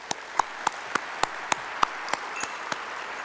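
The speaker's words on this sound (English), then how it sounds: "And let's give them a round of applause." An audience at a port authority breakfast event applauds. Evenly spaced sharp claps stand out every third of a second over a soft, continuous bed of clapping.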